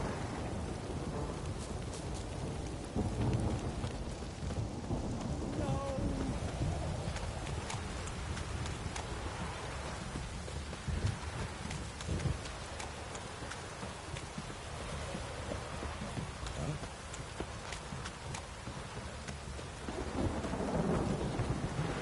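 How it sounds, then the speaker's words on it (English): Heavy rain in The Witcher 3: Wild Hunt pours continuously while thunder rumbles, with occasional clattering hoofbeats underneath the steady downpour. "This downpour's a bastard, it is."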